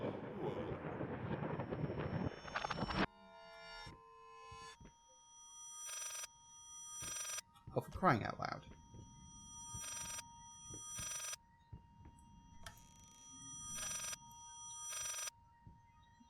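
In the video game Layers of Fear, a telephone rings in repeated bursts with steady pauses between them, over a low background hum; a man briefly exclaims near the start.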